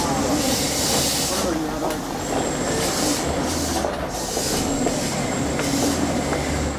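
A Kabe Line local train stands waiting at a station on the Hiroshima to Aki-Kameyama route, giving off a steady loud hiss and hum with faint rattles and soft tonal beeps over the idling noise.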